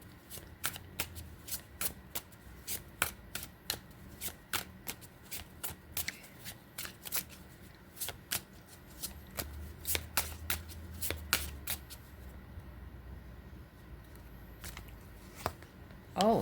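Tarot cards being shuffled by hand, a quick series of sharp riffling snaps and soft slides repeating in bursts, close and fairly quiet, with a brief pause near the end.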